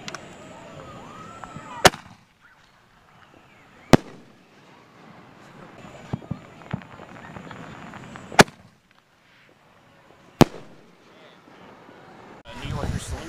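Fourth of July firework mortars go off in a backyard show, four sharp, loud cracking bangs spaced a couple of seconds apart, with fizzing and crackle between and a person talking faintly in the background.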